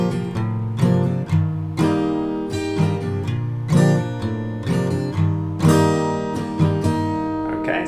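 Acoustic guitar plays the intro of a song, single picked notes ringing over one another in a steady, gentle pattern, close and clear with no voice.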